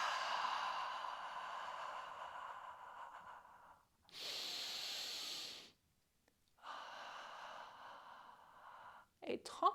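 Forceful abdominal exhalations from a yoga breathing exercise, the belly pushed out then drawn in: three long, hissing breaths separated by brief silences, close and clear, ending with a short sniff.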